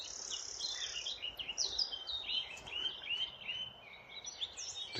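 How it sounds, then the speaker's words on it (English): A nightingale sings outdoors in varied, rapid phrases of high chirps and trills, continuous and moderately close over faint background hiss, with no talking. "That's a nightingale."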